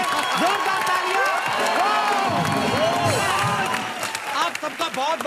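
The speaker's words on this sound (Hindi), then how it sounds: "एक बार किल दिल की पूरी टीम के लिए जोरदार तालियां।" A Colors TV comedy show studio audience claps, cheers and whoops loudly and steadily for the Kill Dil team, with crowd noise and voices mixed in throughout.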